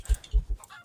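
Chickens in the video game Resident Evil Village give three short, low clucking bursts in quick succession, close and fairly soft, with faint game ambience between them.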